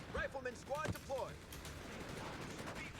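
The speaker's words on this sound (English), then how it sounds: "we'll go for a strafing run" Aircraft strafing-run gunfire in the strategy game Company of Heroes 3, a few quick bursts of shots in the first second, then a dense low rumble of battle noise.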